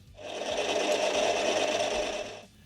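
A steady whirring, grinding drone of a manual machine drilling clearance for an M12 stud in metal, rising in at the start and cutting off after a couple of seconds.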